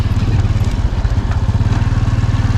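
Motorcycle engine running steadily at close range as the rider heads into town after leaving a cave near Vang Vieng, Laos, a continuous low throbbing drone with rapid pulsing, no talk.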